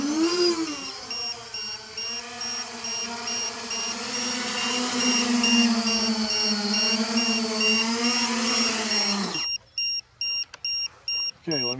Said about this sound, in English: let me shut that beeper off